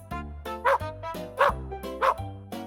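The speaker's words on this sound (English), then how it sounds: "It's a dog." A dog barks four times at a slow, even pace, each bark loud and close with short pauses between.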